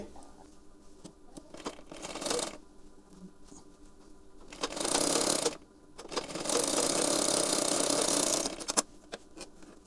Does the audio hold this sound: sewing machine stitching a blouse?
yes